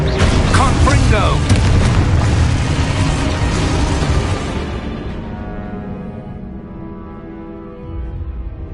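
A Confringo blasting spell goes off as a loud, deep boom with a heavy roar that fades into a lingering low rumble, with a voice shouting over the start of the blast.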